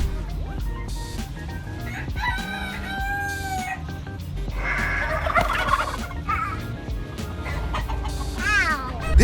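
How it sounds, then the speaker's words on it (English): A turkey gobbles and a rooster crows amid scuffling and squawks, loud and close, with birdcalls rising and falling throughout. "He was taunting a turkey, but the rooster took up the fight in its place."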